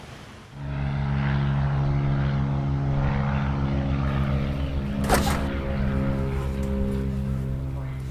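A sheriff's aviation unit helicopter's rotor and engine drone loudly and steadily, with a strong pulsing hum and a brief burst of noise partway through.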